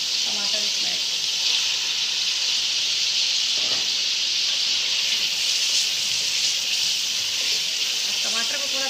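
Tomatoes hit a hot pan of lightly fried garlic and ginger for a Kashmiri mutton masala, setting off a loud, continuous close-up sizzle and hiss that holds steady throughout.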